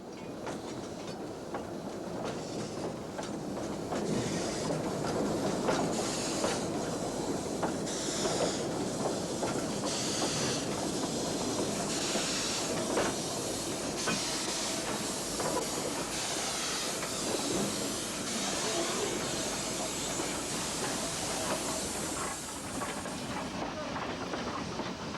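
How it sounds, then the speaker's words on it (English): Train of six-wheel wooden coaches running on rails at a station in southern Europe: a continuous rumbling roll with rhythmic wheel clatter, moderately close, carrying on steadily for the whole stretch with faint voices in the background. "Almost as soon as a southbound train comes to a halt, that from Regior comes in fast at the other end of the low platform."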